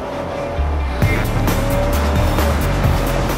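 A Hyundai Genesis BH330 driven hard in manual mode with stability control off, its engine holding a steady loud drone that rises and steps through gear changes, with tire noise underneath and no talking.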